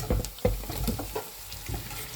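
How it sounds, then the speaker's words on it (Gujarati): Potatoes added to onions sautéing in oil in a pan for a Gujarati potato-onion shak, giving a soft crackle with a few scraping knocks from stirring, close by and with no one talking. "તો બટાકાને પણ મસ્ત સાતડી લઈશું તેલ જોડે"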